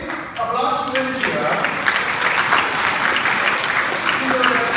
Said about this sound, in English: give a big applause to Hunjie.